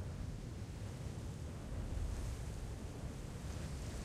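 Water in the game BGMI gives a soft, steady wash of surf-like noise with a faint windy rush, low and continuous without clear breaks, and no one talks.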